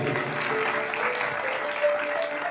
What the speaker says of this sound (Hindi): एक बार पवित्र आत्मा के लिए ताली बजाइए।